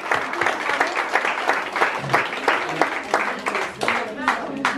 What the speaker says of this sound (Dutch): Een dik applaus.